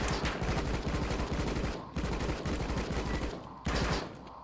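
Gunfire rattles in RocketBirds Hard Boiled Chicken, a 2D action video game. Three fairly quiet bursts of rapid shots arrive with short gaps between them, and there are no voices.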